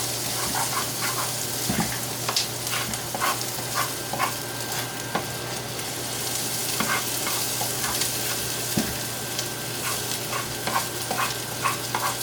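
Peppers stir-fried in a pan for a corned beef hash casserole, a loud steady sizzle throughout, broken by repeated scraping and stirring clatters from a utensil, close up with no talk.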